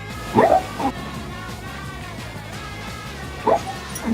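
A sleeping dog yipping softly while dreaming, in two brief bursts of muffled yips and small barks separated by a quiet pause, close by over low background hum.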